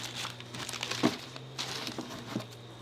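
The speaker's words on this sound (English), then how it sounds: "usually the pendulum is packed and wrapped in a paper packaging" Paper packaging around a battery cuckoo clock pendulum from the Black Forest is unwrapped, giving soft, continuous crinkling and rustling with a few sharper crackles, close and fairly quiet.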